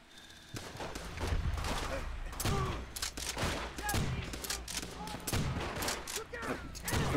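Gunfire in Call of Duty: World at War on Veteran difficulty: a steady crackle of rifle and machine-gun shots with distant explosions, fairly quiet and continuous, while players talk over it.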